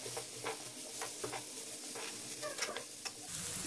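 Keema filling frying in a pan with ground dry coriander, salt, garam masala and pomegranate seed, giving a soft steady sizzle with faint repeated stirring scrapes.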